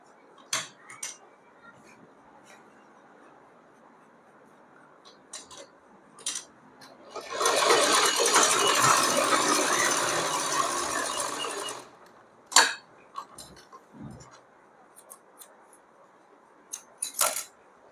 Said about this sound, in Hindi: एक पैर का दबाव देते हुए सिलाई लगा लीजिए